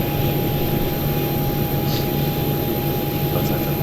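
The engine of a PMDG 737-800 airliner in Microsoft Flight Simulator 2020 spools up during start, a steady roar with a constant high whine running under it. No voices are heard over the noise.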